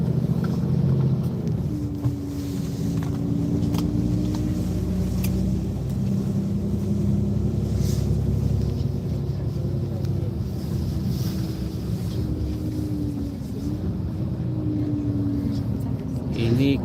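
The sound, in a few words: car driving on a road in Reykjavik, Iceland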